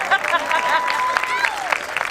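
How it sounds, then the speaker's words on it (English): Graduation ceremony audience at Westgate Community School clapping for the Class of 2025 graduates, a thin, moderate patter mixed with whoops, cheers and voices chattering over it. "And let's keep that applause going."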